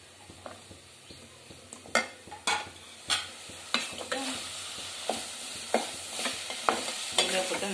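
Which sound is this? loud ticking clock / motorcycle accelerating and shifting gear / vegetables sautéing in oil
vegetables sautéing in oil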